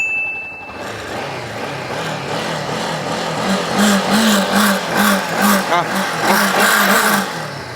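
A Honda CB500X motorcycle engine runs close by, giving a steady idle rumble that swells into a series of rhythmic revs. Someone talks over it throughout.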